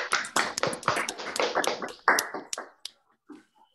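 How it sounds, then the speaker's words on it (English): A small online seminar audience claps together over unmuted microphones, a dense burst of close hand claps for about two and a half seconds before it thins to a few scattered last claps and silence. "Let's do a round of applause if everyone can unmute and then I'll count to three and then we'll clap"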